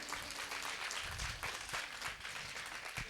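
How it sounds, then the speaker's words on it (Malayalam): Applause from an audience after a Thiruvathirakali dance performance: dense, continuous clapping from many hands, steady and moderately distant, with no clear voices. "നല്ലൊരു കൈയടി കൊടുക്കാം കുറച്ചുകൂടി"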